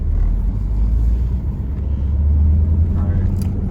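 A Z28 F-Body Camaro pulling away as the clutch is let out, a deep low engine rumble that swells slightly as the car gets rolling, heard from close by inside the car.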